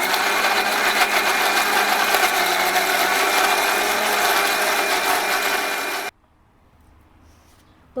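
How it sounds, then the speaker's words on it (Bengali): A kitchen mixer grinder runs loud and close, whirring steadily as it grinds mustard with green chilies, ginger and peppercorns for mango kasundi, then cuts off abruptly into quiet. "কটা কাঁচা লঙ্কা খানিকটা আদা আর কটা গোলমরিচ মিশিয়ে আমি মিক্সিতে বেটে নেবো"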